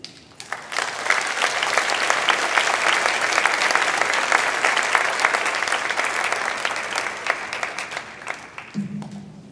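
A seated convocation audience at a girls' school breaks into sustained, dense applause that holds steady for several seconds before tapering off, followed by a brief low hum.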